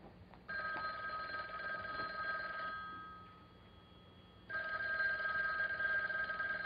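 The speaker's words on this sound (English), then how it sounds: "Aren't you going to answer it? It's your uncle's phone, not mine." A telephone bell rings indoors in two bursts with a pause between, steady and fairly loud, no talk over it.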